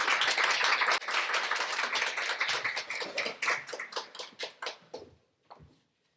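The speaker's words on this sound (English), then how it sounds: "So we'll give them all a very warm round of applause." Applause from a festival audience at University College Dublin that begins full and thick, then thins into scattered individual claps that fade and stop near the end.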